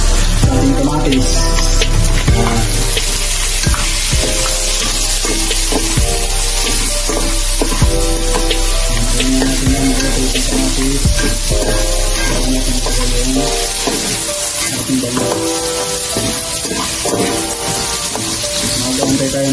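Tomatoes fry in a pan for a Filipino sinigang na bangus (milkfish soup), giving a loud, steady sizzle and crackle over the whole stretch, with occasional stirring clatter and no talk.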